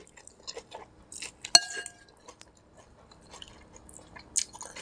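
A child chews Lao pho noodles, with soft, faint, close wet chewing and mouth sounds, broken once by a short sharp clink of a utensil against a bowl in an otherwise quiet room.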